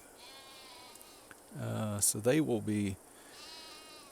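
In the farming game Farming Simulator 22, a sheep lets out a loud, wavering bleat of several pulses, close and clear over a quiet background, with a brief spoken word just before it.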